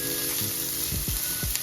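Carrots sautéing in a skillet for sausage cornbread stuffing, a steady close sizzle of hot fat with a few soft low thumps and scrapes as the pieces are stirred, no talking.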